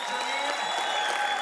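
A crowd applauds a singer, winner of Arab Idol, with brief, steady clapping under a held musical tone.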